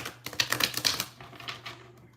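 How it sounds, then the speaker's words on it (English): Quick crisp flicks and riffles of tarot cards being pulled and shuffled, a rapid burst of papery snaps that thins out and trails off. "I am going to pull some cards."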